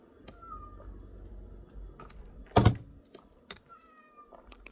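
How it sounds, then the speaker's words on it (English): A cat meows a few times in the background of a quiet indoor room, faint tonal calls at the start and end around a sudden thump in the middle. "Sorry, you can probably hear my cat in the background,"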